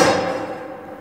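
A pendulum hammer swings down and breaks a test sample in a laboratory impact test, giving one loud crack at the start that fades over about a second, with no voices.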